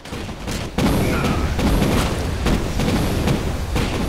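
Units firing on enemies in the Command & Conquer strategy game: a dense volley of gunfire and explosive blasts that cracks in sharply, then keeps rattling with repeated bursts over a steady rumble.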